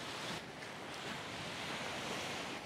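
Sea waves washing against the North Anglesey coast at Church Bay, a steady, broad roar of surf mixed with wind buffeting the microphone, with no voices.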